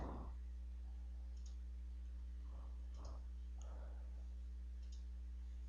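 Computer mouse clicking while selecting loft profiles in SolidWorks CAD: a few soft, isolated clicks spaced across the stretch over a steady low hum, quiet and close.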